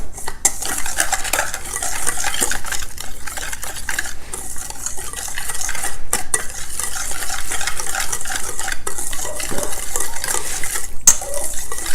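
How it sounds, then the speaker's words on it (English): Paprika, allspice and garlic powder whisked together in a bowl for venison pastrami, giving a steady brisk scraping and clinking of the whisk against the dish throughout, close and fairly loud. "And I'm going to whisk this together."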